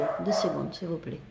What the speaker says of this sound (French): Désolé, c'est mon chien.